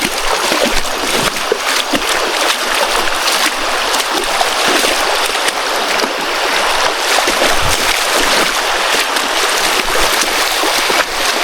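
The Menyang River in the Kalimantan forest flows in a loud, continuous rush with scattered splashes and gurgles, close by and without talk.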